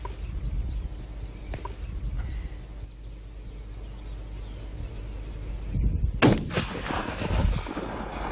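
A rifle shot during a spring roe deer hunt in the Uckermark rings out as a single sharp, loud crack about two-thirds of the way through, after quiet outdoor ambience with faint birds.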